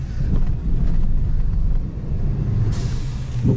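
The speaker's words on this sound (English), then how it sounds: "I don't know if you can hear my blow-off valve when I let off the gas." A Ford Maverick's turbo blow-off valve releases a sudden hissing rush of air near the end of the run, cutting in over the steady low rumble of the truck driving off-road in a forest.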